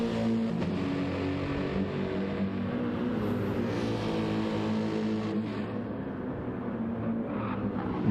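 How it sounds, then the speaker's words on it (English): BMW and Mercedes race cars compete at Watkins Glen in a GT endurance race, their engines giving a steady, droning roar with a sustained tonal whine and no break throughout. "Jacko and the BMW doing a good job at keeping the Mercedes in behind here."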